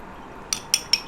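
Three quick metallic clinks of a spoon against a bowl while coconut oil hair treatment is mixed, close and clear over faint room hiss.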